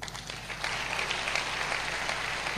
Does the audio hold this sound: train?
no